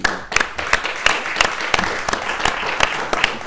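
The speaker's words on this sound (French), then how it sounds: "Je vous demande de l'applaudir, Flore Talouerne." Audience applause with many hands clapping steadily, sharp claps standing out, lasting a few seconds.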